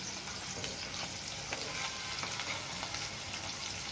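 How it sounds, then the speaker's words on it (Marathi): Green chili paste and onions fry in a pan for pithla, giving a steady soft sizzle with faint scraping stir strokes, quiet and continuous with no voices. "ही मिरची पण आपण कांद्यासोबत चांगली भाजून घ्यायची."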